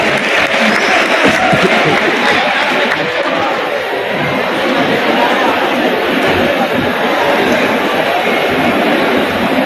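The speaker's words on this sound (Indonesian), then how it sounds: "Itu kasih tepuk tangan ya." An audience claps steadily and loudly throughout, a dense continuous wash of applause with some voices mixed in.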